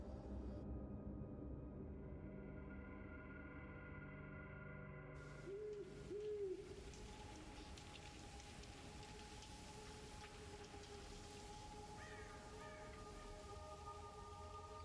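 Birds hoot softly in the horror video game The Casting of Frank Stone, a pair of low owl-like calls around the middle over a quiet, steady ambient drone with faint rain-like hiss.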